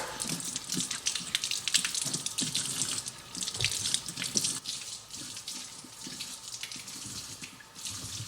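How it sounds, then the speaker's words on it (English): Tap water runs steadily into a sink while rhubarb stalks are washed, a close, splashing gush with shifting bursts as the stalks move under the stream, no talk. "So it's time to wash these rhubarb stalks off"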